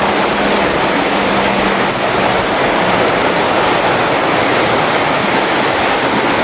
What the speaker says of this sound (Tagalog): Malinawan ng tubig, masiraman magkarigos.